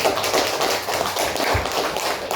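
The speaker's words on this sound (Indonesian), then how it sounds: "Kita beri tepuk tangan." Children in an elementary school classroom clap together in a short, fairly close burst of quick, slightly uneven hand claps, with no talking.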